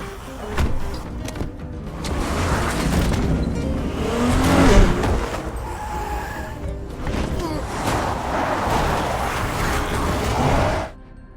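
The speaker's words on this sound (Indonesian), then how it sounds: "tiba-tiba ada sebuah mobil yang datang dan menyelamatkan Jung Suk" A car arrives in a zombie film, engine roaring and revving up close with a surge mid-clip and tire noise, then cutting off abruptly.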